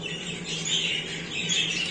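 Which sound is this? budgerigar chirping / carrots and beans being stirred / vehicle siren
budgerigar chirping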